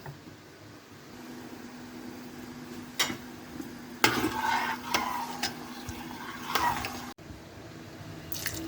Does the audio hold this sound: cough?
no